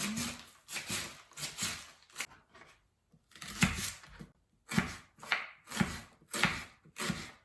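A knife slices Chinese pechay on a cutting board in short bursts of quick, crisp chops. A brief pause comes in the middle, and the chopping is close, clear and without talk.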